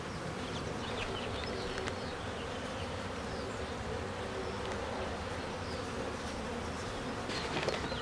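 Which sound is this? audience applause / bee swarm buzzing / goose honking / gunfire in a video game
bee swarm buzzing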